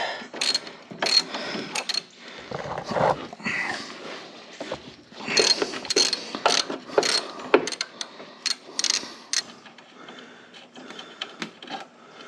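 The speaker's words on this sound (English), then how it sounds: "it's a 1/2 inch bolt. And you take that bolt out." Ratchet wrench clicking in quick bursts while loosening a half-inch bolt on a Troy-Bilt riding mower, close and fairly quiet with short pauses between strokes.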